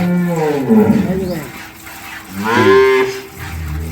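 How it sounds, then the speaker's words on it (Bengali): A dairy cow at a farm, frightened in an unfamiliar place, lets out two drawn-out moos close by, with people talking around it. "দেখেন একটু গরুটা ভয় করতেছে ভয় ভয় নতুন জায়গায় আসছে না"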